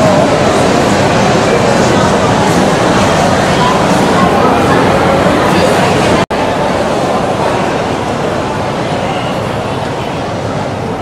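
A Penang Hill railway train in Malaysia rumbles loudly and continuously nearby, with a steady rushing roar of wheels on rails and a brief cut partway through.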